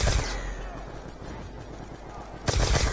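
Gunfire in the Call of Duty Black Ops 2 Zombies video game cracks loudly in bursts at the start and again near the end, with a noisy stretch between them.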